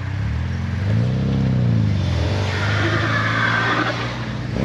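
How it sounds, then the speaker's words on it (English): A Chevrolet HHR SS engine hums and shifts pitch as the car drives along, with steady road noise throughout. "All right, let's go for a drive."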